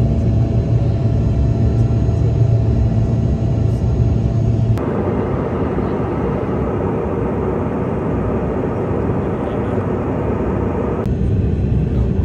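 A passenger plane landing at Salt Lake City, Utah after a flight from Denver, heard from inside the cabin as a loud, continuous low engine and airframe rumble that shifts tone partway through, with no talk.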